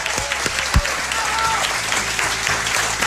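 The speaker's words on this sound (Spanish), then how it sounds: "Yo os pido un aplauso ahora sí grande para vosotros." A studio audience at a Spanish-language program breaks into steady applause that fills the whole stretch, with one sharper clap-like knock near the start under the dense, even patter.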